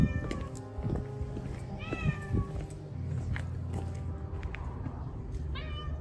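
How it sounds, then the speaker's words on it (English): A cat meows several times in a park, clear rising and falling calls at moderate distance over a steady background hum, the last meow near the end, with faint voices in the background. "There's a cat."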